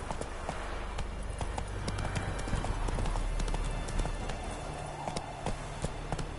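Horse hooves clip-clopping at a brisk pace in The Witcher 3, a dense, steady run of close hoof strikes over a rumbling game soundscape.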